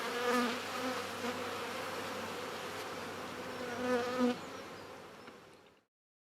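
A dense, steady buzz of many honeybees swarming close around queen cages, continuous throughout with slight swells in intensity, no voices.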